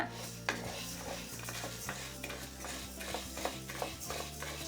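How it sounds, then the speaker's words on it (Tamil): Black urad dal being dry-roasted in a pan on high flame, faint dry rattling and stirring scrapes with light clinks of a spoon against the pan, steady and quiet. "கருப்பு உளுந்தை நான் ஒரு நிமிஷமாக வறுத்துட்ருக்குறேங்க"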